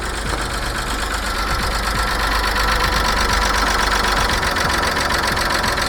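A classic big block Volvo engine runs with audible valve noise, a loud close steady mechanical rumble with fine rapid ticking throughout, alone without talk.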